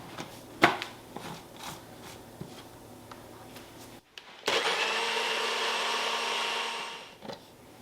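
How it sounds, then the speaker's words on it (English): Close by, a kitchen blender whirs at high speed for several seconds, blending mango with condensed milk, after some clattering of utensils and before it spins down. "I'm going to start with 3 tablespoons of condensed milk, blend that up"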